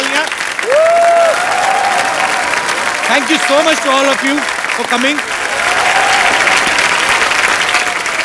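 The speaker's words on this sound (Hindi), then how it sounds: "एक बार डैडी की पूरी कास्ट के लिए जोरदार तालियां।" A studio audience on the Kapil Sharma Show gives loud, sustained applause for the cast of the film Daddy. Steady, dense clapping fills the whole stretch while someone speaks briefly over it.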